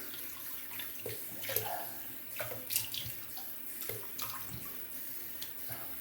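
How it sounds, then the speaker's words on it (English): Cold running water splashes and gurgles from a tap, with irregular splashes as a razor is rinsed beneath the flow after a shave, fairly quiet and close. "Let me rinse it with some cold water."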